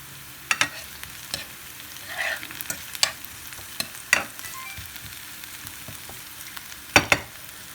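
Shallots or onions caramelizing in a pan for eggplant lasagne, a steady low sizzle broken by sharp scraping clatters of stirring at irregular intervals, close and moderately loud with no talking.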